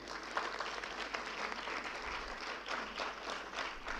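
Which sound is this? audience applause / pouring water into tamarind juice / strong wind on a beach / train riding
audience applause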